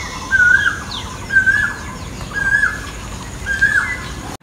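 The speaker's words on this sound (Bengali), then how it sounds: "তো সকালে উঠেই আমরা শুনতে পেলাম কোকিলের আওয়াজ।" A cuckoo calls in the morning, four clear repeated calls spaced about a second apart against a quiet outdoor background, fairly close and distinct.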